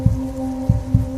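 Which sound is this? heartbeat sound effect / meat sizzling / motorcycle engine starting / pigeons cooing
heartbeat sound effect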